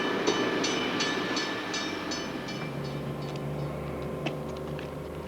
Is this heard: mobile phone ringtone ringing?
no